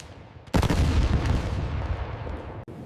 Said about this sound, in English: German guns tore the sky apart.